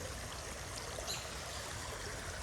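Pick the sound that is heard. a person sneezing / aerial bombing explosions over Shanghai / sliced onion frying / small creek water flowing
small creek water flowing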